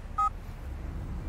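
A mobile phone gives a single short, clear keypad dialing beep, followed by a faint low background hum.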